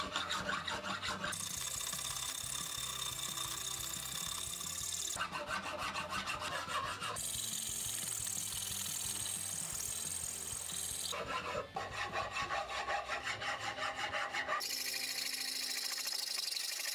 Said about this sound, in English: Fitting the handle was literally just a matter of filing off a bit of material